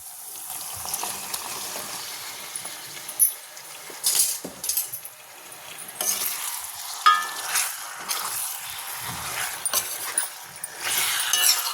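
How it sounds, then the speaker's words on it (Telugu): Half a kilo of chicken frying in hot oil for a Telugu garlic chicken fry, a loud steady sizzle with occasional stirring scrapes and light utensil clinks, no talking. "ఇప్పుడు హాఫ్ కేజీ చికెన్ వేసుకుందాం అండి"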